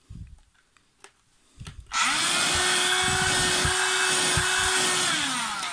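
SilverCrest 12 volt cordless stick vacuum with a strained-sounding motor, silent apart from a few handling knocks before it switches on into a loud steady high whine with a low hum underneath.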